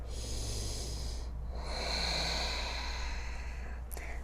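Slow, deep breathing during a soft power yoga flow: long airy inhales and exhales close by, with a short pause between breaths and a faint click at the end.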